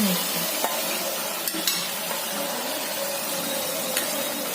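Prawns frying in a pan for a prawn curry, giving a steady close sizzle with a few soft clicks of stirring and no talk over it.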